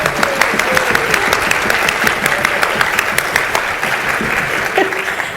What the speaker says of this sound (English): let's all just give a round of applause